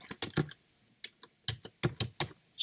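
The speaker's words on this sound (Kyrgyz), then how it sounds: "Бул жерге ошол токтомдун же жаңылыктын атын жазабыз." Computer keyboard keys click in quick, uneven bursts as a news headline is typed, close and crisp with short pauses between runs of keystrokes.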